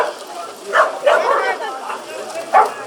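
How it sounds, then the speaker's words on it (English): A big dog at a puppy pool party gives a few short barks and yips, spread apart, with people chatting over them. "It's that big dog right there."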